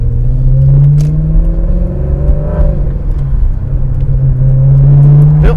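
A Maserati's engine pulls in first gear on the road, loud and close, a steady rumbling drone whose pitch rises and dips as the revs change throughout.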